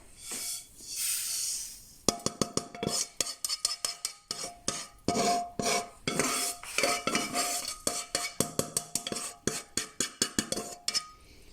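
Roasted sesame seeds for laddu being scraped from a pan onto a plate, a rapid string of sharp metallic clinks and taps from a spoon against cookware after a brief soft rustle, close and clear.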